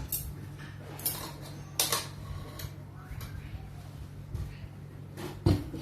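Pork rad na noodles being scooped onto a plate, with scattered light clinks and taps of utensils against dishes, a few sharper knocks standing out over a low steady hum.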